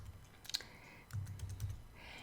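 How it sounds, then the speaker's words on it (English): Computer keyboard typing while entering text in Adobe Illustrator, a few faint clicks and short bursts of keystrokes over a quiet background hum. "You can just start typing and it will replace that text."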